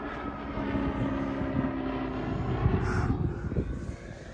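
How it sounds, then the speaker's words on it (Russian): A steady engine drone of a small airplane passing overhead at a beach, continuous and moderately loud with a broad rumbling hum. "О, какой самолетик летит, смотрите"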